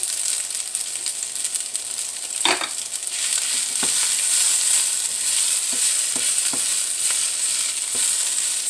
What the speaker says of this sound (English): I'm going to just stick a little bit more butter in there